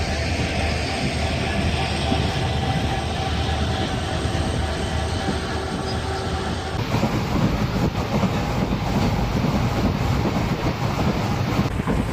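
A train rumbles steadily across the new Pamban sea bridge, a loud continuous roar with rattling and wind buffeting the microphone throughout.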